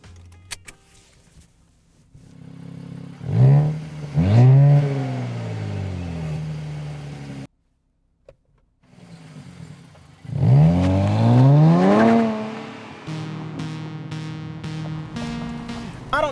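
A 2023 Nissan Z with the automatic transmission accelerates hard through the gears in two loud, rising pulls, with a brief silent gap between them and a quieter engine drone at each end.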